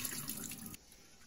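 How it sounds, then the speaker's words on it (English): Sweet rice being gently washed and stirred in water, with a steady wet sloshing and running-water sound that stops abruptly partway through, close and moderately loud, with no talking. "I'll wash this rice gently for 15 minutes"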